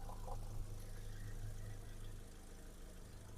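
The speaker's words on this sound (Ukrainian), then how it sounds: "Послухайте роботу двигуна, зауважень немає." A Volkswagen Caddy's 1.6 MPI engine idles steadily with a low, even hum, fairly quiet and continuous throughout, with no talking.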